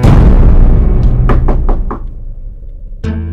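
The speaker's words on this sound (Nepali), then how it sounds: "म त आफ्नै घरमा पनि ढोका ढ्याङढ्याङ हानिरहेको।" A fist pounds hard on a house door in a quick series of five or six loud, close knocks. Heavy noise comes before the knocks, and a short thud sounds after a pause.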